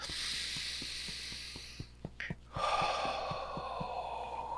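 A big deep breath during a tapping exercise: a long close inhale, then a soft exhale, over a steady background hum with regular soft ticking.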